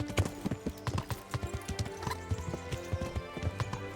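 A horse gallops in the video game Kingdom Come Deliverance, its hooves thudding in a fast, steady rhythm close by, with a musical score underneath and no talking.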